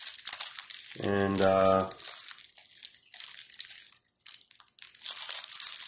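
Crinkling plastic packaging is rustled and crushed while unwrapping a buckskin wallet, close and fairly loud in bursts, with a voice briefly speaking in the middle.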